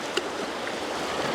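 Fast, streamy water rushing down the River Nore, a steady broadband wash that holds an even level from start to finish with no one talking.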